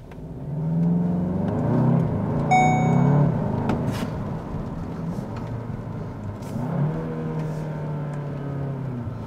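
A Volkswagen Arteon in manual mode accelerates on a wet road, its engine note climbing smoothly through rising revs with a brief shift and a second pull, heard from inside the cabin over a steady tyre and road hiss.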